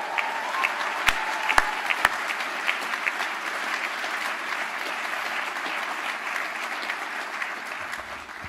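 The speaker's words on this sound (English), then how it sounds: "What about a round of applause for that?" Audience applause at Ireland's first open-air graduation ceremony, a 2021 applied sciences and technology conferring event, with steady clapping from a large crowd outdoors lasting the whole stretch, a few sharper claps standing out near the start.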